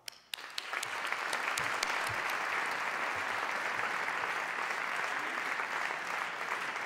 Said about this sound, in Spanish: Con gran satisfacción pido un aplauso para don Mario.